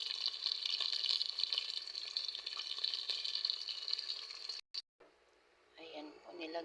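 Water is poured into a cooking pot holding sardines while making sautéed pechay, a steady rushing pour that stops abruptly and gives way to a softer bubbling and stirring.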